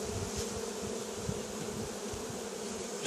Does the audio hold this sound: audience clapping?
no